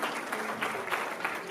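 Brief, faint audience clapping at an Africa Cancer Foundation gathering, an even wash of many hands with slight swells, heard from a distance.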